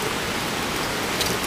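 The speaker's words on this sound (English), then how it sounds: "Oh, because it's raining horizontal." Heavy, wind-driven rain from a thunderstorm pounding a campsite, a dense continuous hiss with no pauses or voices.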